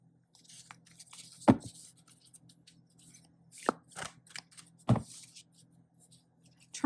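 Oracle cards from a Witching Hour deck being shuffled by hand, alternating ripple and side shuffles, giving soft papery riffles and several sharp card snaps close by, with no voices.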